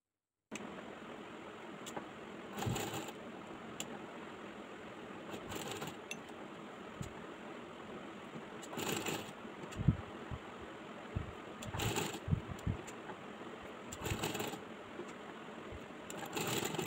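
A sewing machine runs steadily while stitching a folded half-inch fabric hem on a sleeve, a continuous close mechanical whir with periodic brief louder bursts and small knocks as the fabric is guided.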